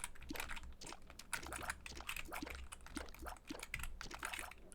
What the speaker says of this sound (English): I'm sorry that my keyboard's really loud too